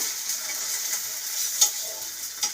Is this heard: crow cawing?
no